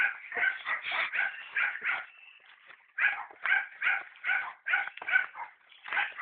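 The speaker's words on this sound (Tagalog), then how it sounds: "Naririnig nyo na po yung mga tahol ng aso." Several dogs bark and yip in rapid, repeated bursts, with a brief lull before the barking resumes, moderately close, with no talking.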